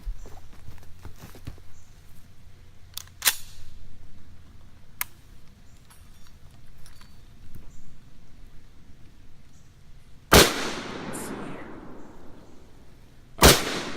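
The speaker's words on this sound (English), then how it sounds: "The gun, the recoil just pivots back on it and kind of slams it to my face." Yugo SKS rifle fired from a monopod outdoors, with two sharp, loud reports several seconds apart, each trailing a brief echo, after quieter handling clicks and rustle.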